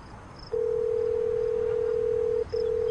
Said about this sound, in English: please dial Stingray's phone